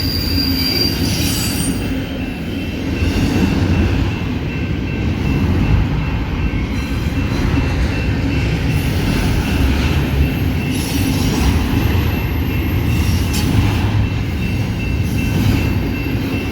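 A CSX intermodal freight train led by an AC44 and a rebuilt EMD SD70MAC rolls past at speed, with a loud, steady roar of wagons, rumbling wheels and squealing rails close by.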